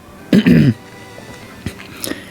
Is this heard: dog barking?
no